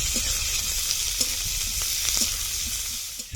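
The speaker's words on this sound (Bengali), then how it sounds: "পেঁয়াজটা ভালো করে ভেজে নেব" Chopped onions fry in oil in a pan with whole dried chillies and cumin, a close, constant sizzle punctuated by brief stirring clicks, no voices present.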